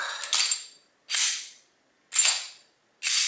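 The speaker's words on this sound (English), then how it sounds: "Just dry fire one, and then Glock." A Glock 23 pistol is dry fired and cycled, giving four sharp, close metallic clicks and snaps spaced about a second apart, each with a short hissy tail and silence between.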